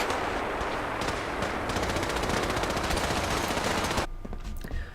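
Rapid automatic rifle gunfire in Fallout 4 rattles loud and dense for about four seconds, then stops abruptly, leaving a fainter tail of echo and clatter.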